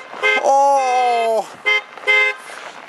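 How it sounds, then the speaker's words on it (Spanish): A car horn on a road in Alaska near the Arctic Circle blares in one long sustained honk followed by two short toots, loud and close. "¡Hasta toca bocina!"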